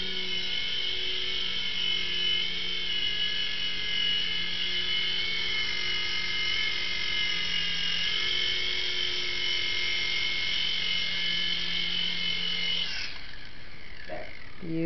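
A small radio-controlled helicopter hovers with a steady, high-pitched electric whine for most of the clip. Near the end it winds down as it lands, with a brief clatter. The sound is close and the background is otherwise quiet.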